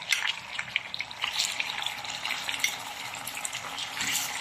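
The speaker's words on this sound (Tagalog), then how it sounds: "iprituhin lang po muna natin yung ating chicken para po maging brown siya" Chicken pieces brown in a hot pan, crackling with a busy, uneven sizzle and occasional stirring scrapes, close and continuous, without talk.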